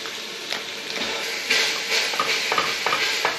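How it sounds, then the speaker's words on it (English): Two pounds of ground beef browning in a pot give off a soft, constant sizzle, broken by occasional scraping and stirring sounds as the meat is moved about. "we're gonna take 2 pounds of ground beef and we're gonna start browning it in inside of our pot"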